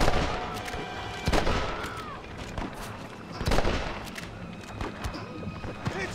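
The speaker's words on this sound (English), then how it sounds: "Where are they shooting me from?" Enemy gunfire rings out in the video game Red Dead Redemption, with several loud, sharp rifle shots spaced a second or two apart over a rumbling outdoor battle backdrop, alone without talk.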